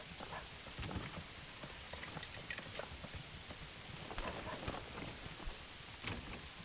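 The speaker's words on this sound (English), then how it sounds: "Nice rain ASMR. I love rain sounds." Rain in the medieval city-building game Manor Lords falls as a steady, soft hiss of patter with scattered drop ticks, quiet and continuous with no other sounds.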